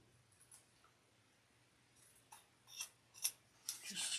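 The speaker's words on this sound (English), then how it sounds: "Just trimming up to make sure everything's aligned" Scissors snip and trim fabric while sewing a small bowler bag, a series of quiet, crisp cuts that grow more frequent toward the end, close up in a quiet room.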